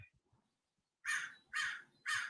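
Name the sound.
crows cawing loudly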